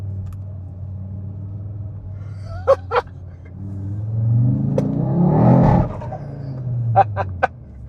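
An Audi RS3 (8Y) engine rumbles low, then swells into a loud revving acceleration that peaks and fades, with a few sharp clicks and chirps around it.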